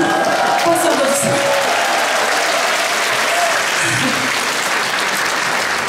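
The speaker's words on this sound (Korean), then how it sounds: "박수 한번 주세요." A concert audience claps loudly and continuously, a dense wash of applause that stays strong for several seconds with no talking over it.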